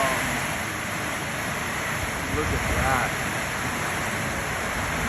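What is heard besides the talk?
heavy rain hitting a steel roof in rainforest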